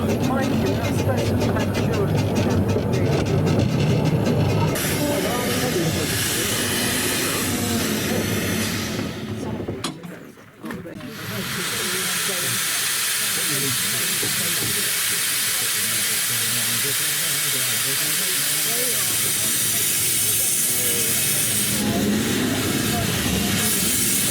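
Steam locomotive on a heritage train ride, giving off a loud, sustained hiss of steam that drops out briefly midway and then returns, with a voice talking faintly over it.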